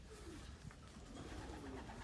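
Racing pigeons coo softly in a loft, low murmuring calls repeating steadily over a constant background hum, with no one talking.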